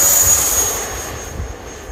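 A large remote-control F-16 model jet airplane on takeoff gives a loud, high-pitched jet whine with a steady roar beneath, fading slightly as it moves away over about two seconds.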